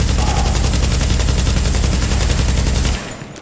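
Sustained automatic gunfire in the PC shooter Tom Clancy's The Division, loud and close, a dense continuous rattle of rapid shots that stops abruptly near the end, leaving a quieter tail.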